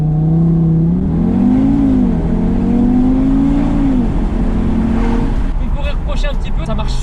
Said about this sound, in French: on va tester le launch control, on va voir ce que ça donne